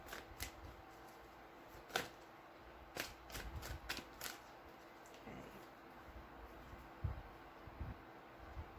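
Soft, irregular riffling and snapping of tarot cards being shuffled close by, quiet with scattered sharper clicks.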